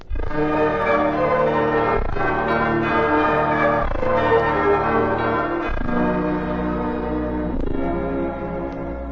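A new Liberty Bell rings on a stage during a 1951 television variety show: loud, resonant tolling strikes repeat about every two seconds, each long ring overlapping the next, with no talking.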